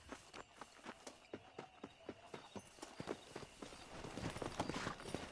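Horse hooves clip-clop steadily at a walk in the western game Red Dead Redemption, then quicken into a denser, louder run toward the end, with no talk over them.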